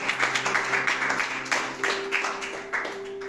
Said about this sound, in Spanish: Es un aplauso a Dios.